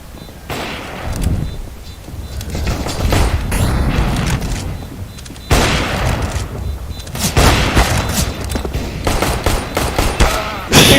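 Pistol gunfire in a multiplayer shooter game comes in loud, rapid bursts of shots and impacts, repeating in clusters over a dense background of game noise, with a few faint voices mixed in.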